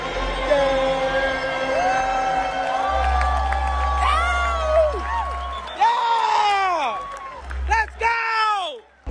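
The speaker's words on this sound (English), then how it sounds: "I hear a lot of cheering, so I'm assuming we won." A large crowd cheers and screams with rising whoops and shouts, loud and surging in waves, while voices talk nearby over a low rumbling background.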